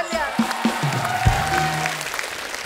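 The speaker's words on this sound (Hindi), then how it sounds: "इनके लिए जोरदार ताली" A studio audience on a comedy show claps in a dense, loud burst of applause with some crowd noise mixed in, brief and sustained throughout.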